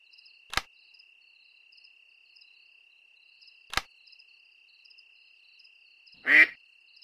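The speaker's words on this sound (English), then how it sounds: "Good night, dear duck." A duck at a farmhouse at night lets out a single short quack near the end. Constant cricket chirping and two sharp clicks fill the quiet before it.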